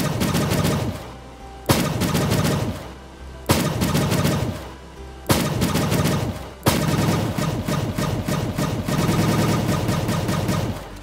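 Weapons fire in the looter-shooter video game Borderlands. Bursts of rapid shots repeat at a steady rhythm, each loud onset trailing into a dense rattle, timed to a tune.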